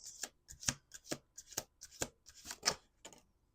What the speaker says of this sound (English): We're going to do a third shuffle just for funsies